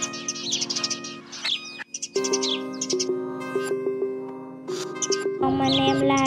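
Sparrow calls used as a lure for bird trapping, with dense, rapid chirps and tweets layered over a steady tonal background and running continuously without pause.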